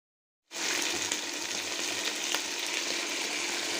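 Chicken pieces frying in a pan, a loud, dense sizzle that bursts in after a moment of silence and keeps up steadily and close, with scattered pops and crackles and no voices.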